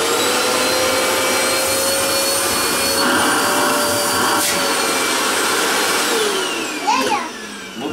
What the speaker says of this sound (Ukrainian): зробимо це з допомогою пилососа